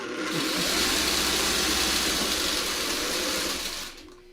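Sewing machine stitching blue triangle quilt pieces for a shoofly block, a fast steady whirring hum that holds loud for a few seconds before winding down and stopping.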